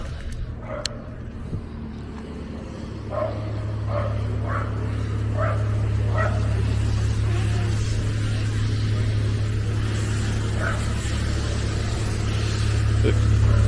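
A neighbour's dog barks outdoors in a series of short, evenly spaced yaps, moderately distant, while a car engine drones steadily underneath and grows louder toward the end.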